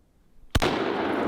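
Single sharp shot from a Type 99 Arisaka rifle striking a watermelon, one loud close crack followed by a sustained rushing decay.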